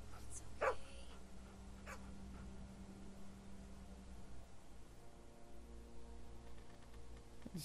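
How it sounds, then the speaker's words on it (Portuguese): A dog in The Walking Dead: Season Two video game barks once and then whimpers and whines softly, with low droning game ambience underneath and no talking. "Cachorro."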